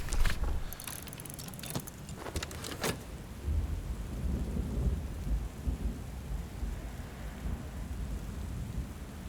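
Thunder cracks and rolls through a rainstorm in the video game Book of Hours, sharp bursts early giving way to a deep, drawn-out rumble beneath a constant hiss of heavy rain, with no speech.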